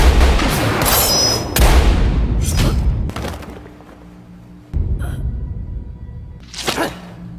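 Several loud gunshots and heavy booms in a burst, shots fired upward in a film, then a pause and two more sharp blasts, close and forceful.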